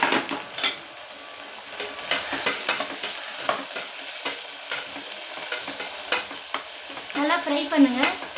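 Onions frying in hot oil for mushroom biryani, a steady close sizzle with a spoon scraping and stirring the pan in repeated strokes, no talk.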